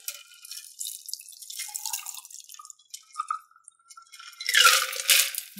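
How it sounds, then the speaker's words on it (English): A Gin Daisy cocktail is strained into a tall Collins glass over fresh ice, giving soft trickling and dripping with faint ice crackle, then a louder splashing pour near the end. "Now I want to strain this into this glass with nice fresh ice."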